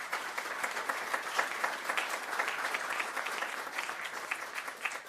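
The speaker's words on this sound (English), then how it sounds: "Let's give our partner companies a big round of applause." Steady, even applause from a crowd at a Little Rock Regional Chamber news conference honors partner companies, many hands clapping at a moderate distance without a break, with no speech over it.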